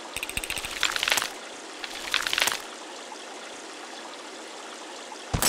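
Water pouring in the mobile game Kick the Buddy, a splashing trickling stream in two bursts over a steady hiss, followed by a sudden loud gush at the very end.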